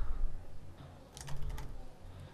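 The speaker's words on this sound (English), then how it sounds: "I will type Vijay." Brief bursts of typing on a computer keyboard, fairly faint clicks over low room noise, with a short cluster of keystrokes in the middle and no voices.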